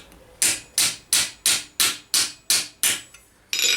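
A hammer strikes a steel gothic gauntlet backplate on an anvil to set a crease, eight sharp ringing blows at an even, quick rhythm, each decaying before the next, then a ninth after a short pause.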